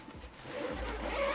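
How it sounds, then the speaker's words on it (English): The dual zipper on the back of an Oakley backpack is pulled open in one quick, close rasp that builds toward the end. "You got dual zipper on the back."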